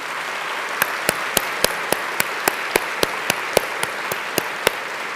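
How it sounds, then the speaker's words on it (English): Rising staff at a university graduation ceremony draw sustained audience applause, a steady crowd wash with one sharp clap sounding at a regular beat over it. "Let's applaud them as well."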